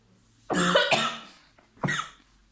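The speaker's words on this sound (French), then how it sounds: "je tousse parce que là je suis un petit peu malade" Two close, harsh coughs from a person who is ill, the first a double burst followed by a short pause, then a single cough.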